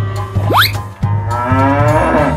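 A cow moos in one long, loud, low drawn-out call, close by, with nothing else heard.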